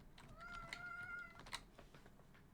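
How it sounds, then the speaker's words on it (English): A house cat gives a single drawn-out meow, faint and close, followed by a shorter chirp, with light clicking like keyboard typing in the quiet background. "That's my cat, Freddy, meowing at me."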